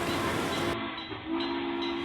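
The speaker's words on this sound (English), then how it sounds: "Or like us, go with the conch train" The Key West Conch Train tour vehicle rolls along with a steady mechanical rumble and a sustained tonal hum, which drops away briefly in the middle and then returns.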